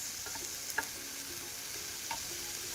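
Mushrooms and olives stir-fry in a pan for an omelette, a quiet steady sizzle broken by a few light scrapes and taps of a spatula.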